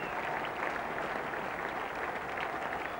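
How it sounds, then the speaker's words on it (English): A cricket crowd at an England versus West Indies Test in 1995 applauds Graeme Hick reaching fifty, a steady distant wash of clapping, fairly faint and continuous. "Graeme Hick acknowledges applause for his 50"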